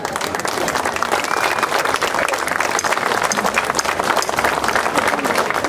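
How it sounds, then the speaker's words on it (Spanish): A festival crowd at the closing day of the patron saint celebration in Yurimaguas claps steadily and loudly throughout, a dense continuous applause with crowd noise and no break. "por quien pido votos de aplauso de verdad."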